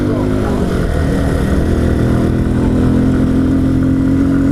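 Motorcycle engine with the intake hose removed, revving loud and close in a continuous rough drone that swells slightly, with someone talking over the noise.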